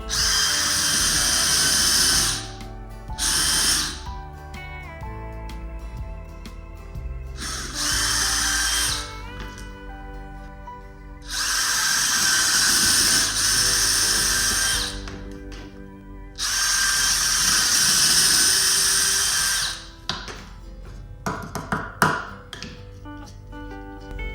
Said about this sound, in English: time to drill some holes for where the hangers are going to go